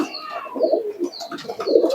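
Aged Malbai, Madras and Giribaz pigeons coo steadily in soft, rolling low phrases, close by, with faint higher chirps drifting in behind.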